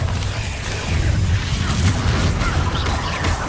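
A Bombarda blasting spell goes off in Hogwarts Legacy, a loud sustained rumbling boom with dense crackling debris that holds steady for a few seconds, no talk over it.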